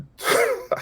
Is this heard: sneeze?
yes